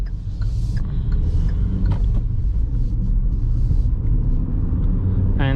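Interior drone of a 2020 Hyundai i10 driving through Zagreb at night, a constant low engine and road rumble with faint tire hiss, some passing traffic sounds and a brief higher tone near the end.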